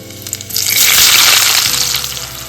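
Onion dropped into hot oil bursts into a loud, broad sizzle that swells and then settles into steady frying, with a few clatters just before.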